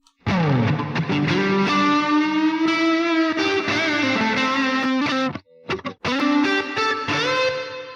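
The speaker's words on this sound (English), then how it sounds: "It sends the guitar to the background, right, immediately, because that's a lot of reverb." A distorted electric guitar plays sustained chords and notes drenched in heavy chamber reverb with a lengthened pre-delay, so it sits far back and washy, with a brief gap before it resumes; no voices.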